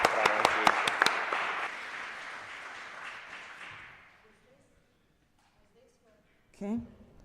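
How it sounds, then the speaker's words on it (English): Audience applause for panel speakers at a corporate governance conference opens with a few sharp claps, swells into loud sustained clapping, then fades out over about four seconds, leaving near silence before a brief voice. "Please give them a big round of applause."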